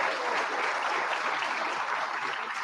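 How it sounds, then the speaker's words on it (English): Audience at a live post-ANOMACON 2025 hangout applauding; a short, even burst of clapping from a crowd, moderately loud and sustained without talk over it. "I would like to hear the applause if yes or no"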